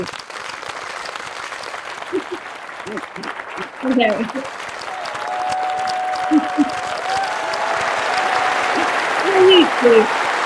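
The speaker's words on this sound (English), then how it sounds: "Everyone, a round of applause." An audience claps in a continuous patter beneath a speaking voice, rising near the end as the clapping grows louder.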